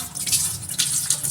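Bitter gourds being rubbed and rinsed by hand in a basin of water, giving soft sloshing and splashing bursts close by with no talking.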